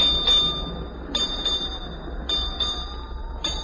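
A ship's bell strikes eight bells at noon, ringing in evenly spaced pairs of strikes, each ringing out over a steady low rumble.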